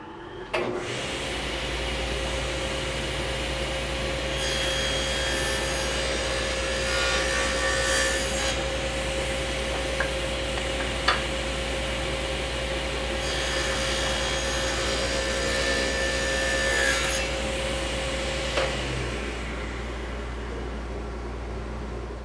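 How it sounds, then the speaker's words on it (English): A woodworking saw makes a test cut through a scrap offcut of door stile stock, a steady motor whine with two stretches of brighter cutting noise as the blade passes through the wood. "let's make a test cut"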